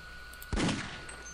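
Enemy shooting in Half-Life: Opposing Force, a single sharp shot or impact blast that cracks out loudly midway and then rings off over a low background hum.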